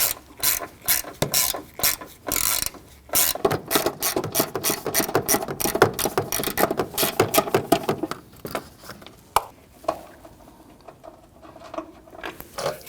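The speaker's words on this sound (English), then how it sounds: "I'm going to use my socket extension and 1/4" ratchet." A 1/4 inch ratchet on a socket extension backs out an 8mm bolt while replacing the serpentine belt tensioner on a 2010–2019 Ford Taurus 3.5L V6, producing rapid close clicking in bursts that slow and thin out toward the end.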